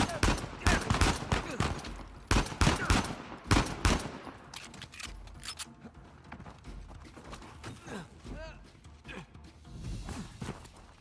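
Sniper and rifle fire in the video game Uncharted 4 rings out in several sharp, loud shots over the first few seconds, then gives way to scattered distant gunfire, footsteps and clatter under faint voices.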